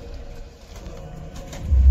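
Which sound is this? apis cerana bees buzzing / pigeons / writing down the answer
pigeons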